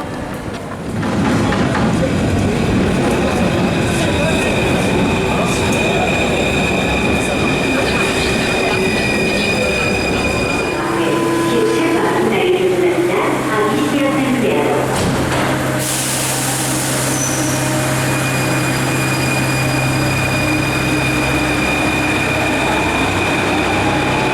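A Paris metro train rumbles loudly from inside the carriage, with rattling, squealing wheels and a shift in tone as it slows and moves off again.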